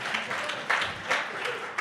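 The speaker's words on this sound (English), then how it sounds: "Give a round of applause." Audience applause at a talk for a rabbi, a short steady wash of clapping with a few louder bursts.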